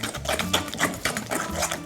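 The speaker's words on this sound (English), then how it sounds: "So I'm gonna whisk this all together until it's nicely smooth and creamy and well combined." Peanut butter and banana are whisked together in a bowl for a raw vegan cookie granola, producing a fast, steady, rhythmic whirring and scraping close by, continuous and unbroken with no talking.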